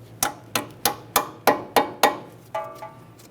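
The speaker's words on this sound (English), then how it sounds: "Get that in position, tap it in with a hammer." Seven sharp metallic hammer taps on a front brake hose clip of a 2009-2014 Nissan Maxima, in a steady rhythm, close by, followed by a lighter ringing tap at the end.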